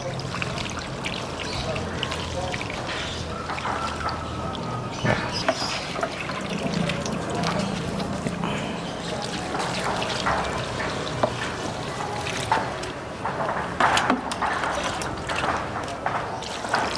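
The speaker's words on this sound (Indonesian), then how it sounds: "Nah, di awal kita harus siram jenuh." Water is poured from a watering can over freshly planted grape seedlings to soak the soil, a steady trickle and splash lasting through the whole stretch while a person talks intermittently nearby.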